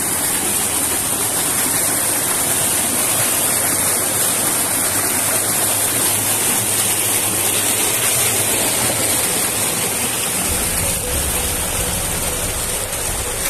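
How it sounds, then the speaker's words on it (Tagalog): Waterfall at Banahaw, a tall falls dropping straight down, roaring as a steady, loud, close wash of broadband noise that fills the whole stretch without a break. "Yung falls na to, diretso din siya, mataas siya sa Payaran"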